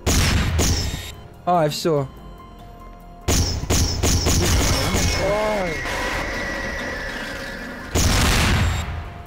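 Gunfire and explosions in the Garry's Mod video game: sharp bangs and heavy booms burst out in clusters, some ringing into a roar, with voices talking in between.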